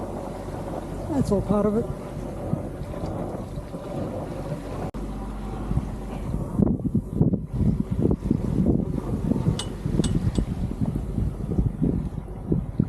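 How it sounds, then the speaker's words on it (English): A sailboat motor sailing under engine on the open sea between Minerva Reef and Fiji, a steady low drone with wind buffeting the microphone, while people talk over it. "Unfortunately, the wind hasn't come still, so we're still motor sailing."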